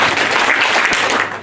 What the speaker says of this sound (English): So when I say NOC, please clap 3 times